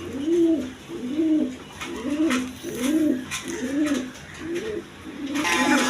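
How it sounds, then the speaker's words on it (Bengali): A black Arabian koka pigeon coos in a steady series of about seven rounded, rolling calls, close by and clear, with no talk over it and a brief hiss near the end. "অরিজিনাল অ্যারাবিয়ান কোকা কবুতর।"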